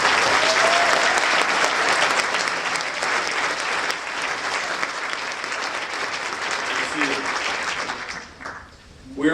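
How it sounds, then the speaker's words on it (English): Sustained audience applause at a university graduation ceremony, loud and dense from a large crowd, tapering off near the end as a voice begins. "Let's give a quick round of applause for these folks."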